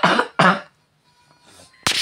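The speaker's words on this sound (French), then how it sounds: "Je tousse un peu." A person coughs twice in quick succession, close and fairly loud, then after a quiet pause a third short cough bursts out.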